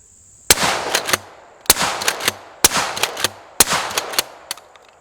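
A 12-gauge shotgun with cylinder choke fires a 12-inch shell in four separate loud, sharp reports spaced about a second apart, each followed by short echoing cracks and fading rumble, with no talking.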